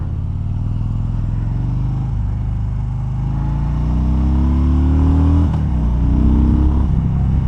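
A Harley-Davidson Dyna motorcycle pulls away and accelerates in a straight line, its loud V-twin rumble climbing through the revs with a brief shift midway, heard up close from the rider's position.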